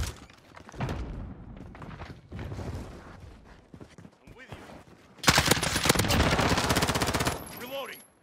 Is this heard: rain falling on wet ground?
no